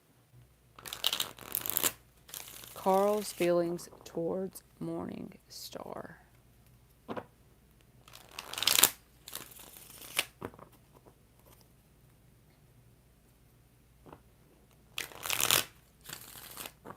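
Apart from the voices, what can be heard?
shuffling tarot cards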